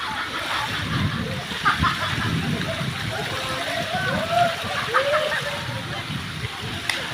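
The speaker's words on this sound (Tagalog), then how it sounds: "Running water." Cold water pours steadily down a waterfall in a continuous broadband rush, with voices faintly audible over the roar.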